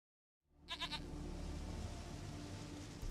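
A goat in The Witcher 3 gives a short wavering bleat of a few quick pulses after a moment of silence, followed by a steady low ambient rumble; no talk.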